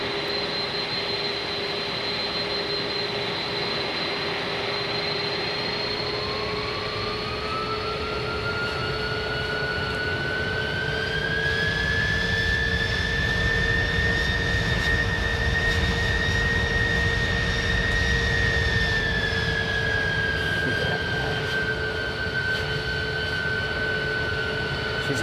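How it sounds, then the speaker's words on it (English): Whistling GE CF6 jet engines on an airliner in Microsoft Flight Simulator 2020, a steady loud roar with a high whine that rises and slides in pitch midway, then holds and eases near the end. "Listen to those CF6s though. Listen to the whistle from them"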